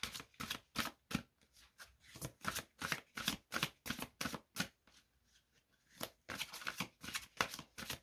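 Tarot cards shuffled and drawn by hand, a close series of quick riffling bursts with brief pauses, stopping for about a second midway before the rapid shuffling resumes.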